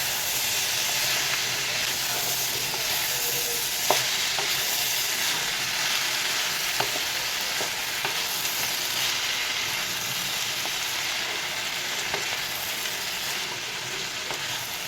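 Mixed vegetables sizzle and fry steadily in a pan, a loud continuous hiss broken now and then by the faint scrape of a spoon stirring.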